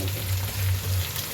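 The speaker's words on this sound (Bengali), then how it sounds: "মুরগি ভাজা বসাই দিছি।" Chicken frying in a pan on a stove, a steady close sizzle with a low hum underneath, no voices.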